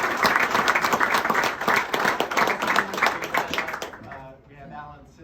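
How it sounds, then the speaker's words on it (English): Applause fills a retirement celebration for Al Kellogg: a dense, steady wash of clapping from a sizable crowd, loud and close, with some voices mixed in before it thins out and fades near the end. "So if we give him a round of applause."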